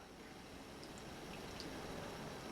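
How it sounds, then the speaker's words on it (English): Italian dressing poured over a hot microwaved potato gives a steady, close wet hiss and light splashing that runs unbroken throughout. "So I pour that over the top."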